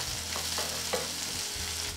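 Onion, tomato, green chilli and curry leaves sauté in a pan with a continuous sizzle while a spoon stirs them, producing a few soft scraping strokes, close and moderately loud, with no speech.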